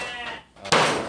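A Garut sheep bleats loudly and close, a short nasal cry breaking in after a brief lull in the background sound.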